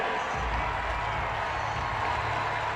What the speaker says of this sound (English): You hear the applause from the crowd.